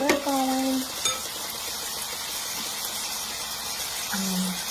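Wild shrimp sizzle loudly and steadily in a hot pan, with a brief utensil clink and scrape as a piece is turned over.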